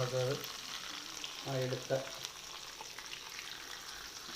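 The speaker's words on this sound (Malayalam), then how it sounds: "ഈ ഇട്ട ചിക്കനെല്ലാം ഫ്രൈ ആയിട്ടുണ്ട്" Chicken pieces fry in a pan for a chicken roast, a continuous hiss and crackle with stirring, while a voice speaks briefly near the start and again midway.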